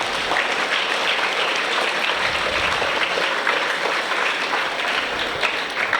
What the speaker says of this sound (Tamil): அட்லீஸ்ட் அவன் முயற்சி பண்ணதுக்கு ஒரு கைதட்டுதல்